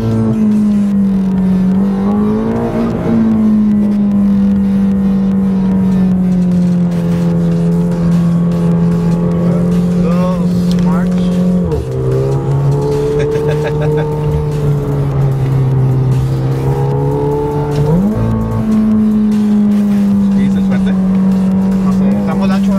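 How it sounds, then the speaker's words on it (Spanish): McLaren 720S sports car on city streets in Mexico, a loud, sustained engine drone heard from inside, with its pitch shifting between gear changes and dropping and climbing again, heavy and close throughout. "ese fue el McLaren 720S"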